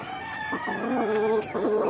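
A rooster crows over soft clucking from nearby chickens, a short farmyard moment with no voices.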